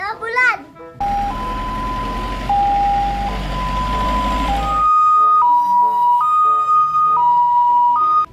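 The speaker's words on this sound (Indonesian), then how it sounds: "ini mobil apa ya? Mobil ambulan." Someone speaks briefly, then a toy ambulance siren plays a two-tone wail, switching to a faster, higher two-tone pattern halfway through.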